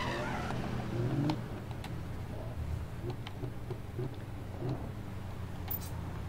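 A Lamborghini Aventador races in Need for Speed 2015, its engine holding a steady mid-level drone with brief surges and faint tire noise, playing on without pause.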